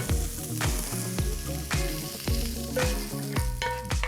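Jimmy Dean sausage in a pan, close and fairly quiet, with repeated scraping and stirring knocks over a low sizzle, about seven strokes, no talking.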